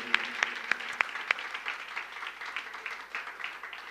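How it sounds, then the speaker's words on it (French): An audience applauds the welcome team, a burst of sharp, close claps at the start giving way to a steady, denser patter of clapping that continues throughout. "Les équipes d'accueil, on peut les applaudir."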